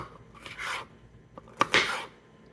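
A kitchen knife slices through sandwich fillings on a cutting board for a high-protein lunch, giving two short bursts of close scraping cuts separated by a brief pause, with no talking.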